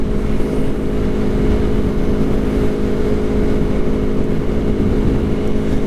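A 2018 Aprilia Tuono Factory motorcycle engine roars loudly and steadily at high revs, a dense continuous drone with a buzzing harmonic whine and rushing noise underneath, close by with no talk.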